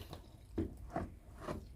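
Water draining out of a Bosch Maxx7 washing machine with an E18 drain fault, heard as faint, soft watery drips and gurgles at irregular intervals, close by.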